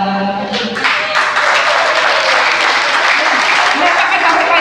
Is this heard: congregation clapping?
yes